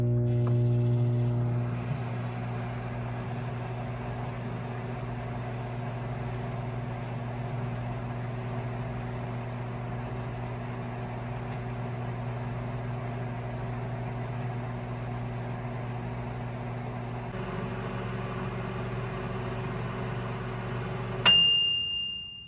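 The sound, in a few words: Micro Fridge MFM-7N microwave oven running two minutes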